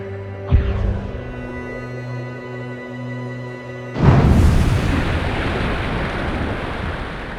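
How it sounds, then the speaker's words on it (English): A low rumbling tone gives way to a sudden loud blast of a torpedo hitting the ship Lusitania, followed by a sustained roaring wash of noise like surging water. "The explosion ripped a huge gash in the Lusitania."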